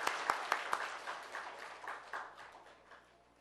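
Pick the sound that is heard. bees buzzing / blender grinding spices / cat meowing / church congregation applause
church congregation applause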